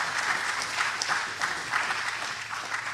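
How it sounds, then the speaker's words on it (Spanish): A church congregation applauding, steady dense clapping from many hands filling the room at moderate loudness, with no pauses throughout. "Dele ese aplauso al Señor"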